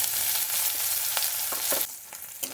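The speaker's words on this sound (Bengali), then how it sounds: "লাল লাল করে ভাজা হয়ে গেছে এরপরে দিয়ে দেবো পেঁয়াজগুলো" Onions fry and are stirred in hot oil in a wok alongside a whole dried red chilli. The steady, close sizzle is broken by scraping stirring strokes, and the frying quiets slightly near the end, with no talking.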